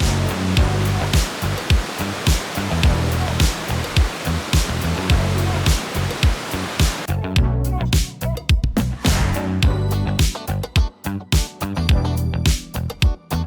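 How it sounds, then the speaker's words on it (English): A waterfall near Durango, Colorado roars as a loud, steady broadband rush of falling water, joined by pulsing music-like beats that grow more pronounced in the second half. "You can just hear the power in the falls."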